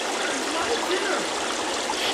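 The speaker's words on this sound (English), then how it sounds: "Now for a cold shower." Video game shower water sprays and hisses continuously, a steady broadband rush with no pauses.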